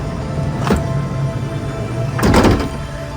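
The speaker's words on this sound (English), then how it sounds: "We will first open up the door." Side door of a 2018 Ford Transit wheelchair van with a BraunAbility power fold-out lift opens, sounding as a brief clunk followed by a louder, longer sliding thunk over steady engine idle.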